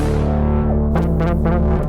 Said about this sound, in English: So you have this hard bass